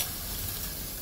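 Cauliflower, capsicum and long green chillies sizzle and hiss steadily in a pan for veg biryani, a brief dense frying noise with no voices.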